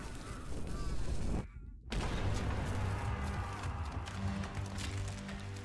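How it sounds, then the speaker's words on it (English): A sudden heavy cannon blast cuts through busy noise in a boat mystery puzzle video game, followed by a brief dropout, then continuous loud action sounds and rumbling. "he got fucking blasted by a cannon"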